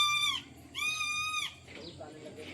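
A small goat in a village gives two loud, close bleats, the second longer and more drawn out, followed by quieter background noise.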